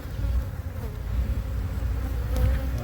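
Honeybees from a purchased package colony buzz at the hive in a dense, continuous drone. The sound is close and loud, and single insects whine past now and then.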